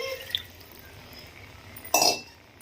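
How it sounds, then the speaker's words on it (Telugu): Tamarind juice poured into a cooking pan of bottle gourd curry: a short, quiet splash and liquid rush near the end, preceded by a faint clink and low background hum. "ఇప్పుడు ఇందులోకి చింతపండు పులుపుని యాడ్ చేద్దాము"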